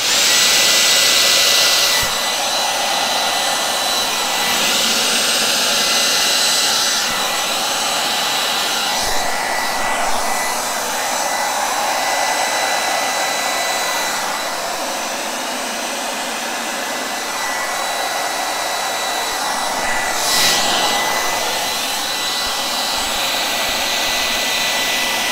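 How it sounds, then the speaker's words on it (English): Blow dryer blasting across acrylic paint in a Dutch pour, a loud continuous rushing whoosh close by that shifts slightly in tone as it moves over the canvas, running throughout without speech. "You never know what the blow dryer is gonna do, right?"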